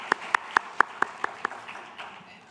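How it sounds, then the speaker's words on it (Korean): A church youth congregation gives glory to God with about seven sharp, evenly spaced claps, loud and close at first, then trailing into fainter scattered clapping and room noise. "우리 하나님께 영광의 박수 올려드리겠습니다."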